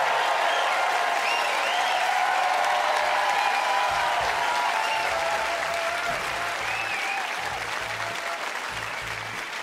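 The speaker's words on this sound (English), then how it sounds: "Give him a round of applause." Steady applause from a large concert audience at a live music awards show fills the whole stretch, dense clapping at an even level with faint cheering mixed in.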